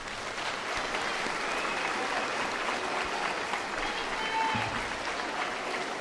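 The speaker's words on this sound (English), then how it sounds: "let's give a round of applause to our 7th graders who are about to receive their awards" Audience in a school auditorium applauding seventh-grade award winners at a junior high academic awards program, a steady, full round of clapping with a few cheers throughout.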